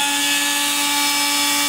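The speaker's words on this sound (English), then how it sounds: "Turn on the spindle." X-Carve CNC router spindle running at speed, a steady high-pitched whine with a constant tone throughout, close and fairly loud with no talk.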